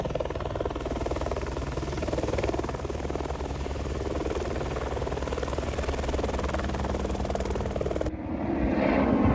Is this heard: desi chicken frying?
no